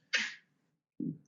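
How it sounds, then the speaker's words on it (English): A dog sneezes indoors: one sharp, airy burst followed after a brief pause by a softer, lower snort, close and clear against silence. "Sorry, that was my dog sneezing."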